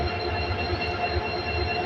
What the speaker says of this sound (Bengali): এই প্রথম ট্রেনে যাতায়াত করতেছি